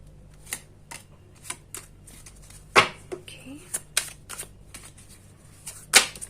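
Tarot cards are shuffled by hand, giving irregular sharp flicks and snaps spread across several seconds, with two louder slaps as cards drop, close up, and no one talking.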